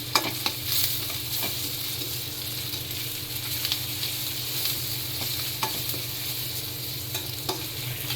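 Onions, green chilies and spices frying in oil for dhaba-style jeera rice, a low steady sizzle with scattered clicks from a stirring spoon, moderately quiet and continuous with no talking.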